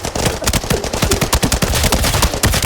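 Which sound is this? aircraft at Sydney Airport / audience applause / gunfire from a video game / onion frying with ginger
gunfire from a video game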